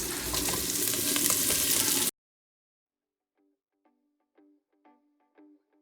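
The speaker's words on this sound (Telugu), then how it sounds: "ఇప్పుడు ఆనియన్స్ అండ్ పచ్చిమిర్చి యాడ్ చేసుకోవాలి." Green chilies and onions fry in a pan with a loud, dense sizzle for about two seconds, which then cuts out to near silence with only faint scattered clinks.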